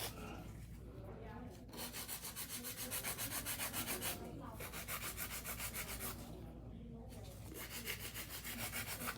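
Acrylic nails are shaped with a hand file in quick, steady back-and-forth rasping strokes, close and fairly quiet, with a few short pauses between runs.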